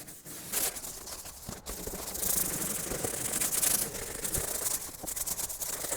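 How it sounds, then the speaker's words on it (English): A scrub brush agitates soapy water over the body of a 1972 Dodge Power Wagon tow truck being washed, giving steady close rubbing and bristle scrubbing with brief pauses and no talk. "So I'm just going to use the scrub brush, it's like a bathroom brush"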